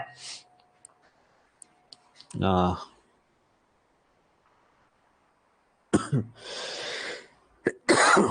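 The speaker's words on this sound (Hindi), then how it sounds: "आई एम सॉरी, थोड़ा सा खांसी आ रही मुझे" A person coughs a few times close up, separated by near silence with faint clicks, followed by a longer burst of harsh coughing and throat clearing.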